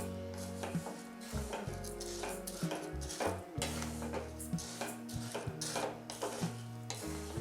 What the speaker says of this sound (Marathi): आता इथे आपण तांदूळ भाजून घेणार आहोत.